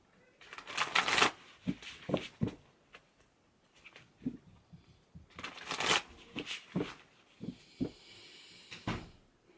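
Tarot cards shuffled in repeated riffling bursts, close and crisp, with soft taps between the shuffles and brief pauses.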